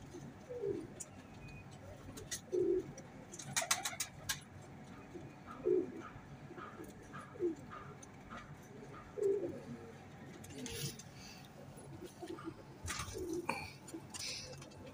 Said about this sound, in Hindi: ये सलारे टैडी कबूतर हैं दोस्तों।